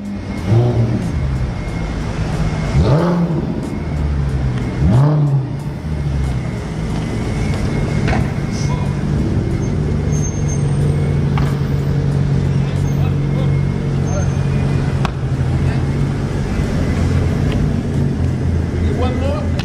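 A loud car engine idling and revving on a London street amid traffic rumble, with a few rising revs early on and people talking over it.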